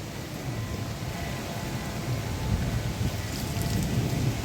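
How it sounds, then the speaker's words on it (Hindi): Steady rain and strong storm wind beside the Ganga at Haridwar, a dense continuous wash with low rumbling gusts that swell slightly toward the end, no voices. "बारिश भी आ गई है और बहुत तेज़ आंधी तूफान भी आ गई है"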